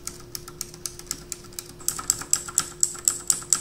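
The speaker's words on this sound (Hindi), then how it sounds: "एंड ये मैकेनिकल कीबोर्ड है तो इसमें ब्लू स्विचेस यूज की हैं" Rapid clicky keystrokes on an HP GK320 mechanical keyboard with blue switches, a steady run of sharp taps that grows louder and more evenly spaced in the second half, close and alone.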